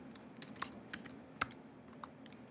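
Keys clacking on a computer keyboard in a steady burst of quick, light taps, several louder strokes standing out, close and clear with no talking.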